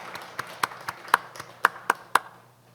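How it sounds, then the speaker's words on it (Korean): A church congregation at a Wednesday worship service claps to welcome visitors, a short run of sharp, separate hand claps at an uneven pace, moderately close, with a faint room hum beneath. "우리 박수로 환영하겠습니다."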